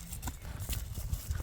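A five-year-old blue-grey horse clip-clops with quick, close hoof beats in an uneven rhythm.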